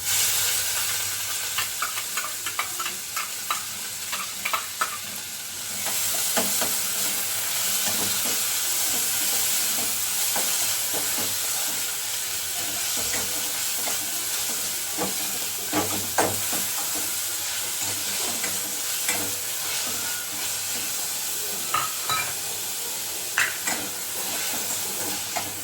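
Chopped onion sizzles steadily in hot oil in a pan for a homemade ambadi (sorrel leaf) vegetable dish, with repeated scraping and clinking as a spoon stirs it, a continuous close frying hiss throughout.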